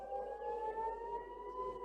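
A faint EAS alarm siren sounds alone, a steady, slightly wavering tone held for the full two seconds without pause.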